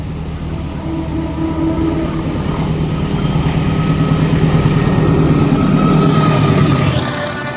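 A passenger train passes nearby in a loud, continuous rumble and rattle of wagons, crossing with the Kutojaya Selatan train between Kutoarjo and Bandung.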